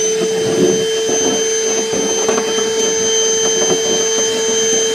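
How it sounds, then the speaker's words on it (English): A close, loud vacuum cleaner whines steadily while sucking up metal shavings from a gooseneck trailer hitch installation in a truck bed, with faint rattling bits passing through the hose. "Go ahead and vacuum up our shavings here."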